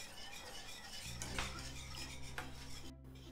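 Cheddar sauce stirred in a pan over low heat, a utensil scraping and clinking against the metal in a steady close rhythm, with a low hum underneath and a brief sharp knock near the end.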